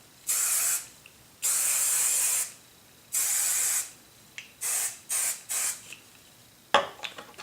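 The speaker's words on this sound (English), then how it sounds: "I'm gonna spray some hairspray." Hairspray hisses out in three long, steady bursts, then a run of short quick puffs, close and loud with no voices.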